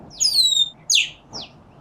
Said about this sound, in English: There's a bird out.